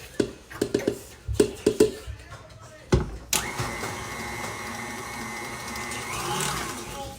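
After some clicks and handling taps, a stand mixer starts and runs steadily up close, mixing peppermint sugar cookie dough with crushed peppermint crunch candies, its motor whirring on for several seconds.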